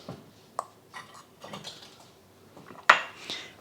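Onion powder, garlic powder and thyme are stirred together into a spice rub for boneless beef ribs, heard as scattered light clinks and taps of a utensil against a bowl, with a sharper knock near the end.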